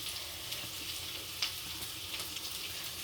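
Chopped banana flower, seasoned with salt, turmeric and a little chili powder, fries in a pan while being stirred. It gives a soft, steady sizzle with a brief scrape of stirring partway through and no talking.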